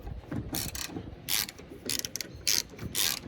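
Socket ratchet working a fastener on a van alternator: rapid clicking bursts of the pawl in short, uneven strokes, close and crisp, with small metallic knocks between them.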